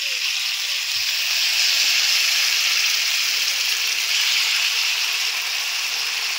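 A paste of two ground medium tomatoes fries in hot oil as masala for rohu fish in poppy-seed sauce, giving a loud, steady, close hissing sizzle that holds unbroken throughout with no talk.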